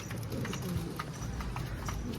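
Donkey hooves clip-clop at a steady walking rhythm, fairly close and moderately loud over a low background rumble.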